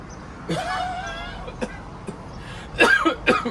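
A person coughs and clears their throat a few times, with short, harsh bursts toward the end and a brief vocal sound earlier.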